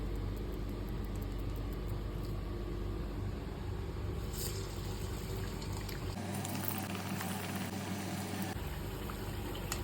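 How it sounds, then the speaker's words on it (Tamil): Lentil vadas (paruppu vadai) fry in hot oil with a steady, close, continuous sizzle and bubbling hiss that briefly shifts in tone midway. "வடையை வந்து ஒவ்வொன்றா தட்டி போட்டுக்கலாம்."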